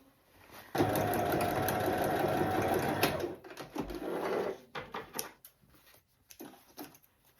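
A sewing machine stitches a half-inch seam in skirt fabric, running in a fast steady burst for a couple of seconds, then slowing into short stop-start runs, close and fairly quiet.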